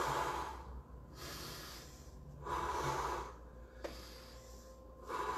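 Slow, deep breaths in and out during an online karate class, each cycle a breathy rush of air through nose and mouth alternating with brief quiet pauses, close and fairly soft.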